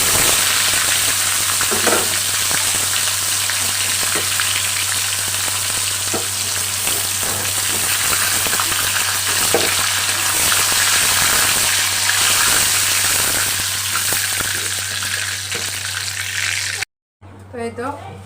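Chicken meat frying in oil, a loud, continuous sizzle and crackle that holds steady for a long stretch over a low hum before cutting out briefly near the end.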